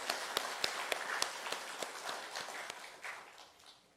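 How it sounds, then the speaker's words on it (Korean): Scattered claps from a church congregation during a Sunday worship service, heard as sharp, irregular strikes that thin out and fade over a few seconds, with no voices over them. "우리 격려의 박수를 보내겠습니다"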